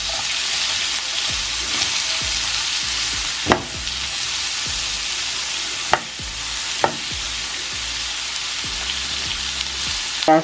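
Sausages frying in a pan while being cooked for Southern beans and rice, a steady close sizzle with occasional sharp knocks of a utensil against the pan.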